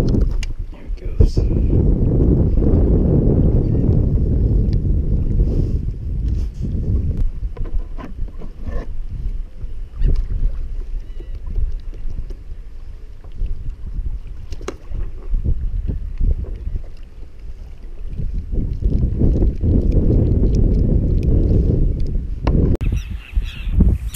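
Wind at sea while saltwater kayak fishing for flounder off Delaware, heavy low rumbling gusts hitting the microphone that rise and fall in long surges, with brief knocks and clatters between them.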